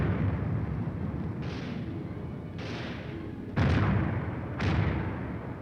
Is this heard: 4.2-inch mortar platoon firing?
yes